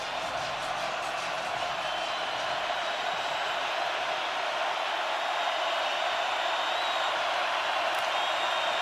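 A large stadium crowd at Folsom Stadium during a Georgia Tech vs Colorado college football game, a sustained wash of applause and cheering that holds steady and loud throughout.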